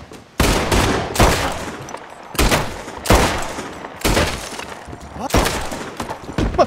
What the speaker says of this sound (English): Okay, we shot them.